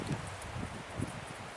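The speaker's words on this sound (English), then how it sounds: "The wind is so strong." Strong wind blows outdoors in a hiking area, a faint continuous rush with soft rustling gusts and brief buffets against the microphone, with no voices.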